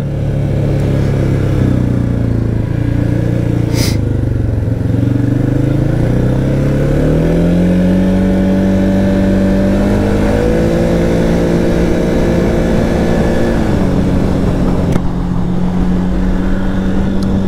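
Can-Am Outlander 700 ATV accelerating on an asphalt road, its engine loud and close, pitch climbing through several rising gear pulls before settling into a steady drone.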